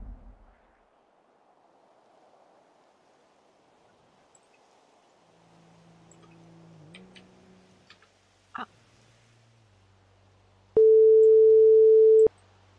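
A phone ringing tone in a video game sounds once as a single steady electronic beep lasting about a second and a half, loud and clean near the end after faint clicks and background noise.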